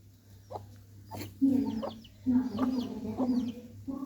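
A domestic chicken clucks close by in several short bursts of rising, throaty calls over a low steady hum, with brief quiet gaps between the clucks.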